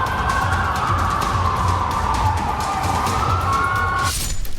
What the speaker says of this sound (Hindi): पुलिस की गाड़ियों का सायरन और ये बैरिकेडिंग।